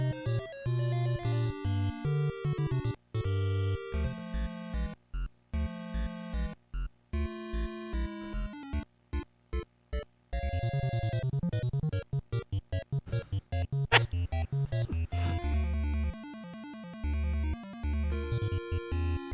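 Bleepy, bass-heavy soundtrack music from Wizardry: Proving Grounds of the Mad Overlord on an Apple IIc, with chunky square-wave tones, choppy stuttering bursts and rapid arpeggios, fairly quiet and without any talk.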